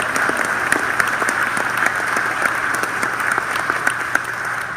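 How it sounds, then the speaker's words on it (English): Steady audience applause at the Viva Hemisfair and Viva ITC exhibit opening in San Antonio: dense, even clapping that holds for the whole stretch, close and moderately loud, with no talk over it. "that deserves applause"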